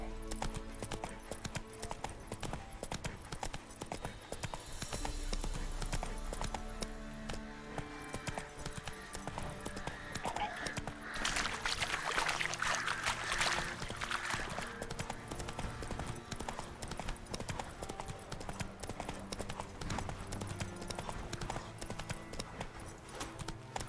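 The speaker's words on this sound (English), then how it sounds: "Run, Roach." Galloping hooves of a horse ridden through The Witcher 3: Wild Hunt, a steady rapid clip-clop that runs throughout under game music and ambience, with a voice speaking briefly.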